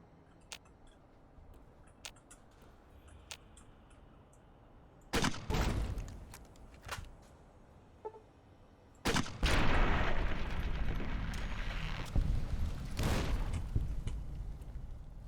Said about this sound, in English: Gotta get those explosions in though.